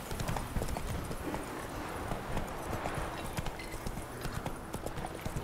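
Horse hooves galloping in The Witcher 3, a fast, steady clip-clop rhythm close and continuous, with the horse's gear rattling alongside and no clear talk.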